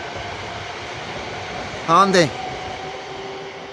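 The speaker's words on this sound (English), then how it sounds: "That's the train from Glasgow to Edinburgh." Continuous rumble from a passing Glasgow to Edinburgh train runs throughout, with a man's brief spoken word cutting in midway.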